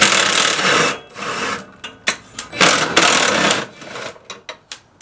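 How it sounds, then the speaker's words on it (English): A socket wrench works on the exhaust hanger bracket bolts of a Nissan 350Z, making close bursts of rasping ratchet clicks and metallic scraping broken by short pauses. "Go ahead and remove those 3 bolts."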